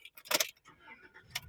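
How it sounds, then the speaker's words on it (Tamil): A bunch of keys jangles close by in a few quick metallic bursts just before a vehicle is started. Faint noise sits between the rattles. "வண்டியை ஸ்டார்ட் பண்ணிடுவோம்."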